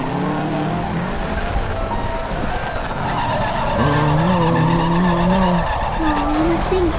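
A cartoon car skids while driving on two wheels in a children's animated race: a loud, sustained tire squeal with wavering pitch over engine noise, with excited voices talking over it.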